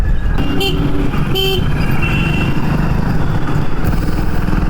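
Motorcycle taxi from a bike ride-hailing service riding through Cooch Behar town, a loud, steady close engine drone with road noise throughout and a few short horn toots early on.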